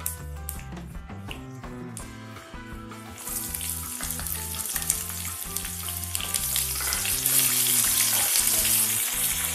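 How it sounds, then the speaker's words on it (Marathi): Onions, with cashews, frying in a pan give a loud, continuous close sizzle that grows denser and brighter after the first few seconds, while rhythmic low knocks sound beneath it. "आता हे चांगलं परतून घेऊया."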